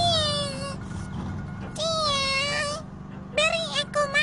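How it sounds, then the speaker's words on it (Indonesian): A cartoon cat meows repeatedly in high, wavering cries, three distinct meows over a steady background hum, with talk nearby. "Apa kau lapar, kucing kecilku?"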